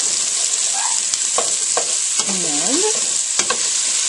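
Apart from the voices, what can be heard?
red pepper and onions sautéing and stirred in butter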